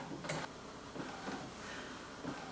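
An Epson ET-8550 inkjet printer at work, printing slowly with faint, sparse clicks and ticks of the print head and paper feed spaced about a second apart over low background hiss.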